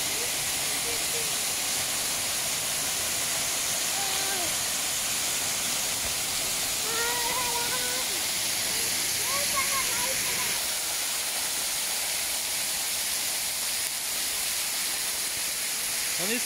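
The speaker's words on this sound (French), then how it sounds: "On est sous la cascade." Continuous loud hiss of Kursunlun waterfall's cascade from directly underneath, a dense spray rush with faint chirps or calls rising above it.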